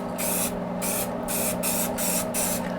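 Finish sprayed from a spray gun onto a carved redwood bar sign, five or six short hissing bursts in a steady rhythm over a constant background hum, close and loud, no talking.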